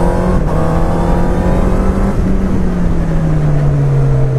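A 2019 Honda CB1000R Plus motorcycle engine revs steadily and loudly up close, its tone holding and shifting slightly as the throttle is worked, with no voices over it.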